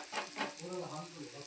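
Fish frying in oil in a pan, a steady close hiss and sizzle with faint muffled talk underneath.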